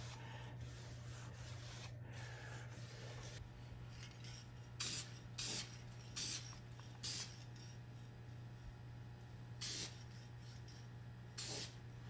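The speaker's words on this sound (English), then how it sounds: "I'm ready for the carbon flash spray" Several short hissing bursts of an aerosol can of carbon flash spray paint on a Corvette Z06 carbon fiber scrape repair, spaced irregularly over a low steady hum, fairly quiet and close.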